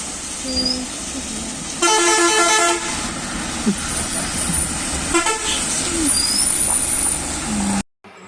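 A bus pulls up with loud horn toots, a sustained honk and the hiss of air brakes over steady engine rumble.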